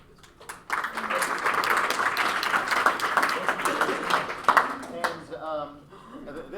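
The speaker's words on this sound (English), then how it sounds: "everybody give yourselves a round of applause" An audience at a hackathon demo day breaks into applause, a sustained crowd clapping rising quickly and holding for several seconds before fading, with a voice talking over the start and end.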